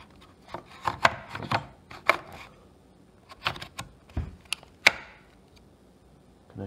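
A power tool battery slides and clicks into a speaker mount, with scattered sharp plastic scrapes and taps of varying loudness and one crisp latching click, heard close up with no talking.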